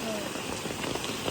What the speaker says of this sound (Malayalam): നല്ല മഴയാണ്, നല്ല തണുക്കുന്നുണ്ട് എനിക്ക്